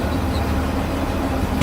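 A 1951 Dodge B1 pickup engine idles smoothly and steadily nearby, a continuous low rumble with no talking.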